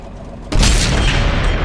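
A Rhm.-Borsig Waffenträger tank destroyer's gun fires in World of Tanks on PS4: one sudden heavy blast near the start, then a loud, sustained rumbling roar that carries on to the end.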